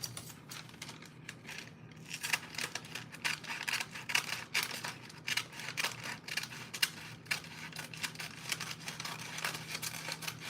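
Scissors snip at something in a kitchen while chocolate chip and butterscotch cookies are being made, a quiet irregular series of close clicks and crisp cuts with faint rustling between them, with no talk.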